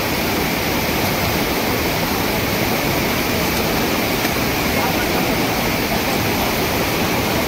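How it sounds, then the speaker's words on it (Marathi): The Kalu waterfall roars during the monsoon, a loud, unbroken wash of falling water that fills the whole stretch with steady noise and no voices. "बघा ही तर ही आहे महाराजा काळू धबधबा"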